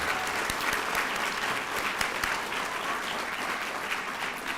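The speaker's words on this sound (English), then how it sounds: "let's give you guys a big round of applause" A crowd at a medical school graduation ceremony gives a big round of applause, continuous clapping from a large room with a few sharper claps standing out, held steady throughout.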